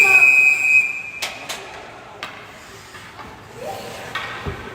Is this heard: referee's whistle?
yes